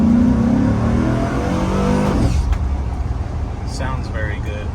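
A 2005 Chevrolet SSR accelerates hard from inside the cabin, its engine note rising in a steady rev climb that drops away briefly as a gear changes, then carries on beneath passing road noise.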